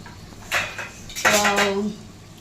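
A metal spoon stirs chicken fry in a pan, making two distinct clanks and scrapes against the pan, the second longer and ringing slightly, close and clear.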